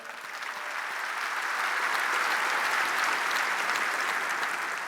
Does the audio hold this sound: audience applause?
yes